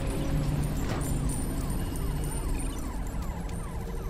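Police sirens wail in the Halo 3: ODST game, a steady rising and falling siren mixed into dense, loud ambient noise throughout.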